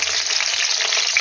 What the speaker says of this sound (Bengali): মাছটা ভাজা হয়ে এসেছে, এবার আমি তুলে নেব